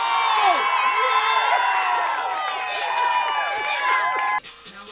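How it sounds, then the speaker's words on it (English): A sports crowd roars and cheers at a conference game, with whoops and shouts overlapping in a dense, loud wash of voices that cuts off abruptly near the end. "once I heard this crowd"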